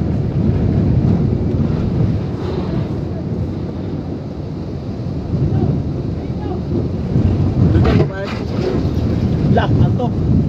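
Strong typhoon wind from Typhoon Odette roars and buffets the microphone continuously, a dense rumbling rush that swells and gusts, with faint voices briefly audible beneath it.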